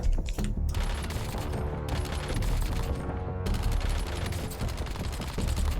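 Continuous automatic SMG fire in a shooter video game, fitted with fire mod attachments, a close, loud rattling stream of shots that barely pauses, with brief breaks between bursts.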